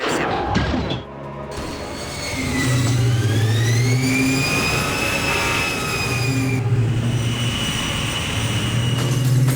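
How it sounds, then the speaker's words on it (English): A jet engine roars in a James Bond 007 video game played on an original Xbox, with a loud, rising whine and sustained rumble that swells and holds over tonal game sounds, with no talking. "We'll have to hold until that jet is neutralized."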